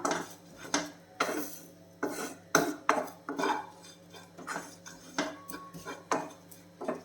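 Spice powders dry-roasting and being stirred in a pan for Kerala-style theeyal with clove beans, giving repeated scraping and clinking strokes of a utensil against the pan in an irregular rhythm, close and moderately loud, with no talking.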